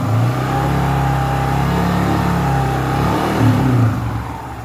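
A Yamaha New Vixion motorcycle engine runs close by in a steady rev that swells briefly near the end before easing off, loud and unbroken, with no talking.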